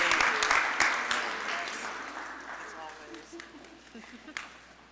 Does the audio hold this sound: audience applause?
yes